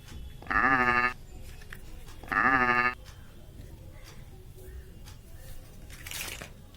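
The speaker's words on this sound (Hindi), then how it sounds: "बकरी है।" A toy goat gives two loud, even electronic bleats about a second apiece, separated by a short gap. Quiet handling noise and a faint rustle follow.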